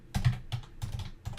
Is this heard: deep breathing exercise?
no